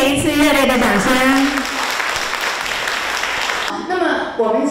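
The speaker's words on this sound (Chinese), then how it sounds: "请大家再给一次热烈的掌声" An audience at a volunteer appreciation gathering breaks into a sustained burst of clapping in a hall, with an amplified voice speaking over its start and again as it ends.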